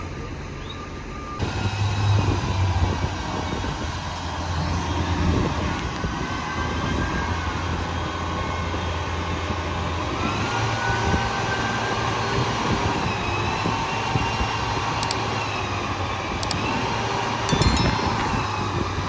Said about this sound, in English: Breaking in the new engine.